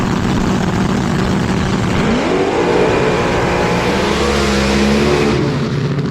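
A drag racing car at the March Meet roars hard down the strip at full throttle, a loud, continuous engine blare with rising pitch as it accelerates, filling the whole stretch with heavy noise.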